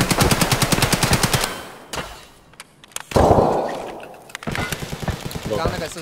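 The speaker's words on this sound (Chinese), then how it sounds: "刚刚那个是谁的枪声？" Automatic gunfire in Escape From Tarkov, loud rapid bursts of shots close by with a short lull in the middle, and players talking between and over the firing.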